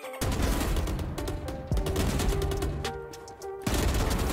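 Loud rapid gunfire in the tactical shooter Valorant crackles in dense sprays, broken by brief pauses and abrupt restarts, with ringing game effects layered underneath and no voices.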